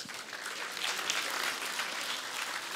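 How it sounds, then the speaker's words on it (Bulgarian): An audience at a concert applauds award presenters, a dense, steady clapping that carries on without a break, with no talk over it. "А сега нека посрещнем с аплодисменти госпожа Илияна Митева и господин Димитър Станев"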